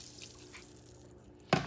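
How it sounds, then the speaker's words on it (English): Water pours into a cooking pot for boiling shrimp, a short liquid splash that starts suddenly near the end after quiet kitchen background, fairly close and alone. "And I have here 6 cups of water."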